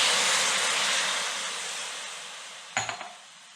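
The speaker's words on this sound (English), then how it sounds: "we're going to deglaze the pan with some beef broth" Beef broth poured into a hot pan for German goulash, a loud broad sizzling hiss that slowly fades, then a few sharp clinks of a utensil near the end.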